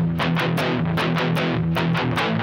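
A heavy, distorted electric guitar chugs out a steady old-style rhythm riff for a pre-chorus, with loud palm-muted chords repeating in an even, driving pattern.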